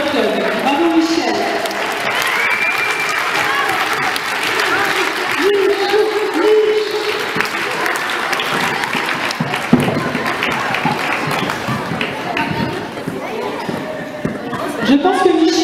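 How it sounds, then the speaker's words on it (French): At a roller skating Christmas gala, an audience applauds its club president with sustained clapping from a large crowd, and murmuring voices and cheers mix into the hall's reverberant noise. "On peut applaudir notre président parce que je pense qu'elle est beaucoup appréciée par notre club."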